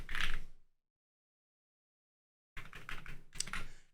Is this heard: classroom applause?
no